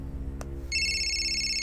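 A mobile phone rings in a film scene, a bright electronic ringtone with sustained repeating tones that starts partway through over a low background hum.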